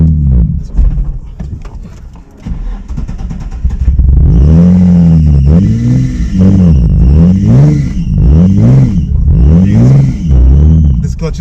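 A drift car's engine revs hard and repeatedly during a test drive, loud, close rising and falling surges after a stretch of idling clatter, with people talking over it.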